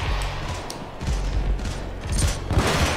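PayDay 2 gunfire: repeated heavy shots and booms in an irregular burst, loud and close, over continuous game background noise.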